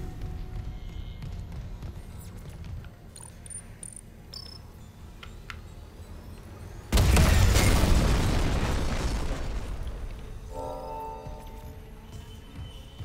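A sudden deep explosion bursts out midway through a Dead Space Remake game scene, a loud broadband boom that decays slowly into rumbling debris and mechanical clatter, preceded by quieter ambient game sounds.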